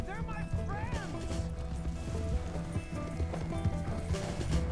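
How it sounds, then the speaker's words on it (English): In Red Dead Redemption II, hooves beat in a quick galloping rhythm under game music and character dialogue, with a brief whinny near the start. "My horse is getting tired."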